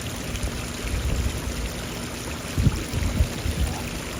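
Water trickling and splashing softly in a front-yard garden pond fountain with shallow edges, a steady gentle burble with a few slightly louder splashes, no voices.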